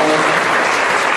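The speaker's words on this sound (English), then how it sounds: "please, let's give a round of applause for a gracious host, the secular students at Carleton College." Audience applause for the host at a debate held at Carleton College, a dense, steady burst of many hands clapping close by, with no talk over it.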